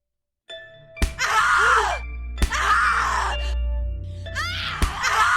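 Screams in the horror video game The Cat Lady: three loud, anguished cries in succession, each with a sharp thud at its onset and a deep rumbling drone underneath.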